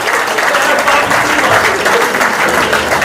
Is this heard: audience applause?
yes